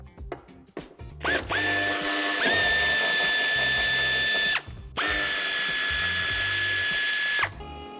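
Power screwdriver removing lower bumper screws on a 2016 Peugeot Expert III van, a few ratcheting clicks then two long loud high whirring runs with a brief pause between, close up, no talking.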